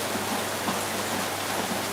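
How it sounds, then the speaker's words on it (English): Heavy rain pours steadily in Lagos, a dense loud unbroken hiss of drops hitting surfaces close by, with no voices. "this rain is not gonna stop anytime soon"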